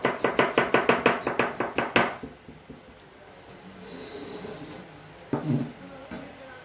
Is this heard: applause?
no